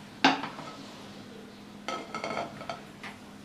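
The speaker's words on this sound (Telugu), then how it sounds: "ముందుగా స్టవ్ వెలిగించి ప్యాన్ పెట్టుకోవాలి." A metal pan clanks sharply onto a lit stove with one clear knock. A cluster of softer metallic rattles and scrapes follows as it settles, and no one speaks.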